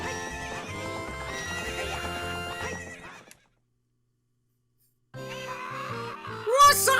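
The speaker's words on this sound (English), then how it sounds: "What's up with that horse?" A horse in The Legend of Zelda: Ocarina of Time neighs and whinnies over galloping hoofbeats and game music, breaking off into a pause of silence before the music and horse sounds return, ending in a loud, high whinny.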